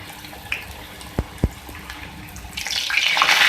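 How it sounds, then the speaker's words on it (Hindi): Chicken macaroni samosas fry in hot oil with a soft, watery sizzle and a couple of sharp pops, and the bubbling swells louder near the end, nearby and without talk. "ये देखिए, हमारे समोसे फ्राई हो रहे हैं।"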